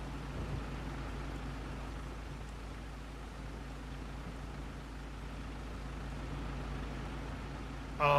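Rain falling on surfaces with wet tires hissing in Farming Simulator 25, a steady, even wash of broadband noise over a low vehicle rumble, continuous throughout and moderately loud.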